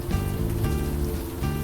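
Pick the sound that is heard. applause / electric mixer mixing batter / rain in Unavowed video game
rain in Unavowed video game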